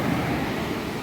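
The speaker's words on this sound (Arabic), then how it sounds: "الموج عالي وهو غويط" Surf rolls in on Ras El Bar beach, a broad, constant wash of crashing seawater with wind buffeting the microphone, loud and close throughout the brief moment.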